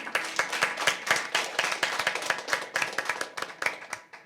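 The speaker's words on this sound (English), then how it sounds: "Yes, clap him again." A quiz competition audience claps steadily and enthusiastically, a dense patter of many hands continuing throughout without any talking.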